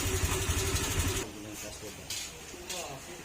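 A Honda Click scooter with a tight valve idles close by, its low engine hum shifting as the idle is raised partway through, with occasional louder bursts near the end.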